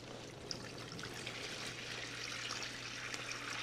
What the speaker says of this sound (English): I'm pouring this first gallon in